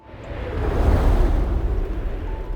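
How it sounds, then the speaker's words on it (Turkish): Soft, steady wind blowing with a low rumbling whoosh that swells slightly and then holds, with no voices. "Sadece rüzgarın sesi, ormanın içinde bir melodi gibi yankı yapıyormuş."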